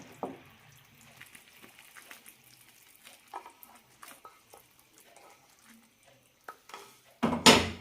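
Hot liquid is poured into a rice flake laddu mixture just after the flame is switched off. Quiet scraping and stirring are followed by a loud, close burst of sizzling at the end.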